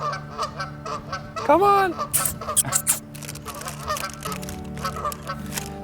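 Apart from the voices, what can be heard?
Canada geese honking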